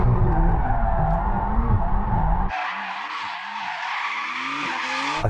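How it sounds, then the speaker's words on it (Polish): Race car tires skidding and squealing as the driver warms them before a race, a loud harsh scrub over engine roar, then a sustained squeal with pulsing engine notes. "jeżeli chcesz rozgrzać opony, jestem pewien, że chłopaki z ES będą szczęśliwi"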